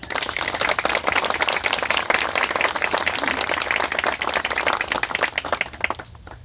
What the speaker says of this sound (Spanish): Y eso creo que se merece un aplauso.